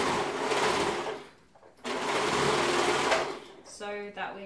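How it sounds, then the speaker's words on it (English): An overlocker stitches a sweatshirt sleeve seam in two loud, steady whirring bursts separated by a brief pause, followed by a short tonal hum near the end. "I'm just going to do this on my overlocker"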